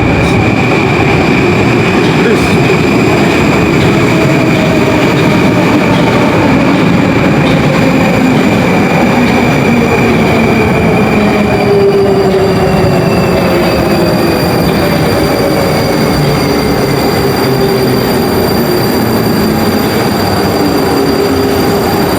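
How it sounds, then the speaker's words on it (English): A Moscow metro train rolls into a station with a steady low rumble and a long high wheel squeal that fades as it slows, no voices over it. "So the next metro is arriving."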